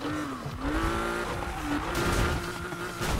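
Need for Speed video game car driving with strong tire grip, a loud sustained engine drone with rising and falling pitch and tire squeal layered over it, continuous and close.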